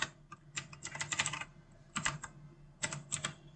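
A computer keyboard clatters in three short bursts of quick typing, separated by brief pauses, while a network-scanning command is entered; the keystrokes are close and fairly loud, with no voices.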